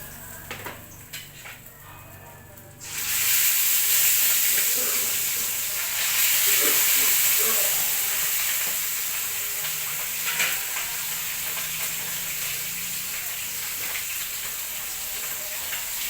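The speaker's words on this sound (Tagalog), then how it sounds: "Our fish is cooking." Fish frying in a pan with a steady, close sizzle that jumps louder a few seconds in and then hisses on continuously, with small crackles and pops scattered through.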